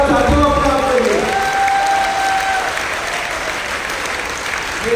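A workshop audience in Silvassa breaks into sustained applause, a loud dense clapping wash with a few cheers; a voice speaks briefly at the start before the clapping carries on alone.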